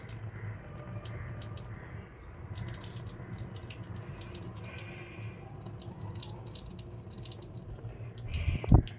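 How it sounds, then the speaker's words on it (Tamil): Water drains from a pot of cooked rice, pouring and trickling steadily for several seconds, ending in a brief burst of louder splashing and clatter. "இப்போ ஒரு பாத்திரத்தில் சாப்பாடு வடி போட்டுடலாம்"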